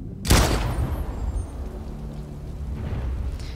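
A single loud gunshot in the video game Detroit: Become Human booms close up and decays into a rumbling echo, followed by low ambient noise.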